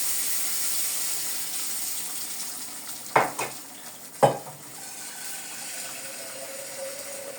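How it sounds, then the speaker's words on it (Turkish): Boiling water is poured into a pan of sautéed meat and peppers for fresh okra, bringing a couple of sharp splashing hisses over a soft steady sizzle. "ben şimdi diğer taraftan kaynayan buradaki kaynar suyumdan ilave edeceğim buraya"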